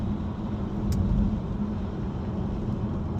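Inside a BMW i3 REX electric car while driving: a steady, moderately loud low road rumble and cabin hum continues throughout, with no speech.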